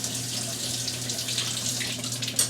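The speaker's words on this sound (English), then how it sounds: "So, you can rinse them in the water." Tap water runs steadily into a sink while hard-boiled eggs cooked in an Instant Pot are rinsed under it, a continuous close splashing stream.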